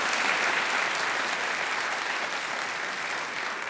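Steady, dense applause from a large debate audience at an evening event, sustained and even throughout without any speech over it.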